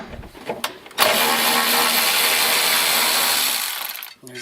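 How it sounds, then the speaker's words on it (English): An 8mm bolt being backed out of the front nose panel of a BMW E36 M3 with a power tool, a steady whir of about three seconds that follows a few short clicks and then winds down. "we're going to remove those 2 8mm bolts here that are holding the front nose end panel"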